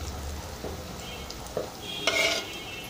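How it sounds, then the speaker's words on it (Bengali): Spices with ginger paste, turmeric paste and turmeric powder frying in a pan while being stirred: a soft sizzle under scraping and metallic utensil clatter, loudest near the end of the short stretch. "পরিমাণ মতো হলুদ গুঁড়া দিয়ে দিচ্ছি, একটু নেড়ে চেড়ে নেব।"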